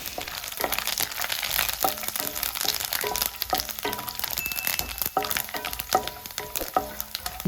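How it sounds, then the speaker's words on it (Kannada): Mustard seeds, cumin, peanuts and curry leaves frying in hot oil for bread oggarane, a steady close sizzle with crackles and pops and a few sharp stirring clicks. "ಸ್ವಲ್ಪ ಫ್ರೈ ಮಾಡಿಕೊಳ್ಳಿ. ಸ್ವಲ್ಪ ಕರಿಬೇವನ್ನು ಹಾಕ್ಕೊಳ್ಳಿ."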